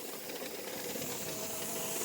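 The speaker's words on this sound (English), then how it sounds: "I can hear it boiling." A pressure canner processing chicken, boiling and venting steam in a steady loud hiss with a faint underlying rattle, continuous and close.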